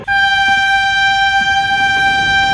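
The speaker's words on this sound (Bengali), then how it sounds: "ও পাচুদা, ট্রেন ছেড়ে দিচ্ছে তো।" A train horn sounds as the Ghanti Pahar Express pulls out from platform 1 of a station, one loud, steady, sustained blast that holds unbroken from start to finish.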